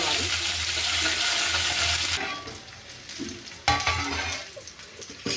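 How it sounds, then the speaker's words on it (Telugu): Ginger-garlic paste and cumin seeds fry in a pan for ghee rice, with a dense, steady sizzle for about two seconds that then drops to a softer crackle broken by a couple of stirring scrapes. "ఒక స్పూన్ అల్లం వెల్లుల్లి పేస్ట్ బాగా ఫ్రై"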